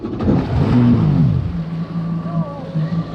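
A 2006 Yamaha WaveRunner VX110 fuel-injected personal watercraft idles and revs smoothly, a steady engine hum with brief throttle rises and wind buffeting, while someone talks over it.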